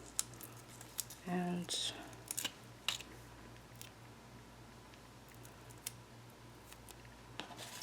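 Scissors cut a Velcro circle in half during a tote bag sewing tutorial: a few quiet, close snips and crisp clicks, with a brief tone and some light handling noise, as a voice speaks faintly.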